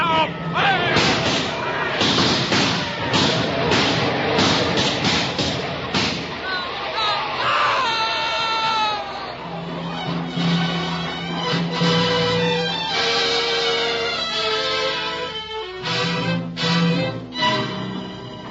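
Soldiers fire rifle volleys in a battle scene from a 1949 film: dense, loud bursts of gunfire and booming shots, mixed with shouting voices and swelling music.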